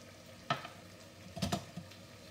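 Tuna roast being stirred in a pan with green chillies and curry leaves, a low sizzle with a few soft scraping strokes of the spoon, quiet and close.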